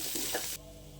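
Banana stem poriyal with grated coconut stirred in a pan, a brief, faint sizzling scrape that cuts off abruptly halfway.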